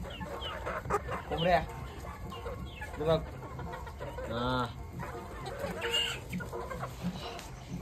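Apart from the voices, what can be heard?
hens clucking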